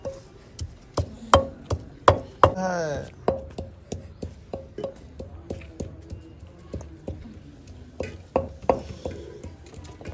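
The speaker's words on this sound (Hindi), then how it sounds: "देखिए हरा धनिया जो है ना मैं काट के डाल दूँ।" Fresh green coriander is chopped on a board in a village kitchen while chicken karahi is being made: a steady run of close, crisp knife taps, with a brief voice partway through.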